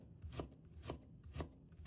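A knife chops peeled fresh ginger into slices and strips on a board, three evenly spaced thudding cuts close to the mic in a quiet room.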